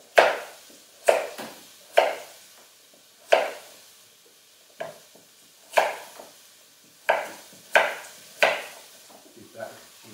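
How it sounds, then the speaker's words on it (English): A knife roughly chopping vegetables for a chunky vegetable stew, making about a dozen crisp, separate thuds on a board at an uneven, unhurried pace, close and clear with no talking. "Okay, so just roughly chopping them."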